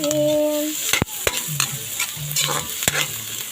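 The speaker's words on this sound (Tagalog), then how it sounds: "gisa lang yung bawang, sibuyas at luya" Garlic, onion and ginger sizzle in a hot pan for a Filipino crab dish while a utensil stirs and scrapes. Sharp clanks of the spoon against the pan cut through the close, steady frying.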